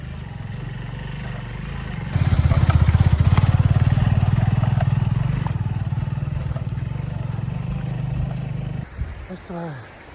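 Motorcycle on the road to Dhorpatan, engine rising to a loud steady drone with rattling clatter after a quieter start, easing slightly toward the end as a voice speaks over it.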